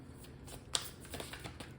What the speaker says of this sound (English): I'll do 3 more shuffles